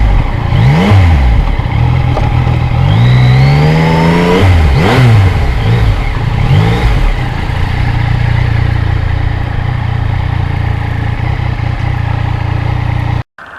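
A 2020 Yamaha MT-09 motorcycle revs hard while riding in cold winter weather, its loud engine climbing and dropping through several sweeping rises over steady wind and road roar, then cutting off abruptly at the end.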